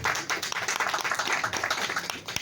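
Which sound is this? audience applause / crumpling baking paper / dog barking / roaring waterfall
audience applause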